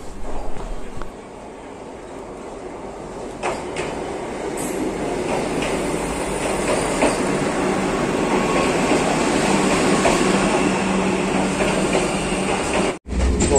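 Steady, loud rumble fills the cabin of a moving Vande Bharat train, a constant broadband roar with no break until a short dropout near the end.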